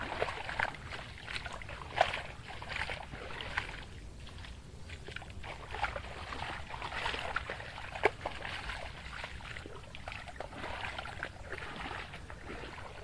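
Floodwater rushes steadily into a flooded rural road during the high-water season, a continuous churning wash with small splashes and trickles close by, no talking over it.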